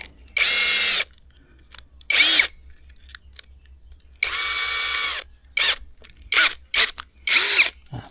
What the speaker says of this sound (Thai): เจาะเหล็กกันบ้างนะครับ ก็ใส่ดอก